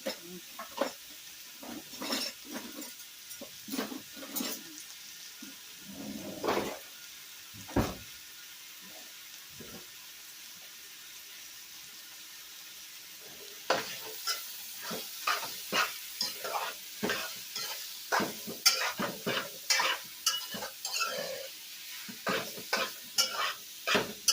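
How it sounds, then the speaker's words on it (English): Meat searing in a pot for a one-pot dinner, with loud scraping stirs from a big spoon over a steady close sizzle and occasional clunks of cookware. "I'm going to let it sear a little longer, and then I'm going to add my garlic."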